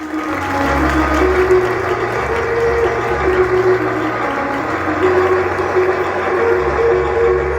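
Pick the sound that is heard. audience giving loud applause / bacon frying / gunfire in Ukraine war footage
audience giving loud applause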